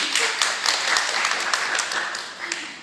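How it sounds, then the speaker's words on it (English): Audience at a cultural knowledge-exchange gathering in Kenya clapping steadily, a dense even patter of many hands throughout with faint voices underneath. "So please a big round of applause for Faith"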